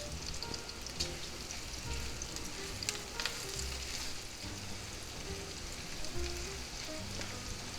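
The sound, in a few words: stirring beef, onions and peppers frying in a pan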